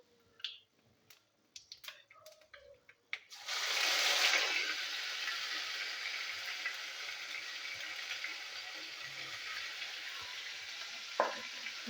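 Spices and ginger-garlic paste land in hot oil in a frying pan and sizzle loudly and steadily after a few faint clicks and taps, with an occasional stir or scrape near the end, while a Bengali rui fish and kachkola potato curry is being cooked.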